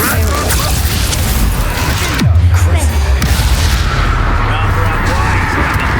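A Confringo blasting spell detonates in Hogwarts Legacy, a loud booming explosion with a deep low rumble that swells midway and lingers over dense battle noise.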